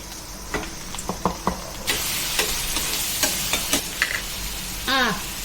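Chicken pieces fry with onions in a pan, giving a continuous sizzle broken by sharp clicks and scrapes of stirring, close and fairly loud with no talking.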